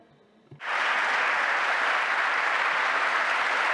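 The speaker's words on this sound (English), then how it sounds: "there's a lot of applause going on." Conference audience bursts into applause after a brief quiet moment, sustained, dense clapping filling the hall at steady loudness to the end.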